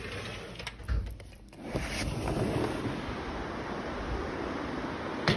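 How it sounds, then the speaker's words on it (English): The Arkansas River flowing beside a composite deck makes a steady broadband rushing wash, with some wind buffeting and handling noise at first before settling into an even, continuous roar. "And then you can hear the river."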